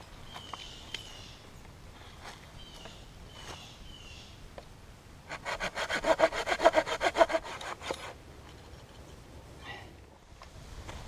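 A hand saw cuts firewood on an outdoor day trip in a rapid run of rhythmic back-and-forth strokes, close and fairly loud, with quieter rustling and scraping before and after.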